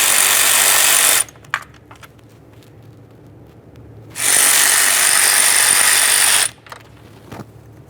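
Two bursts of a power tool or ratchet, each a few seconds long, spin out a pair of 10mm bolts from the EGR tube on a 1998–2011 Ford Ranger 2.3L L4, with small metallic clicks in the quiet gap between them.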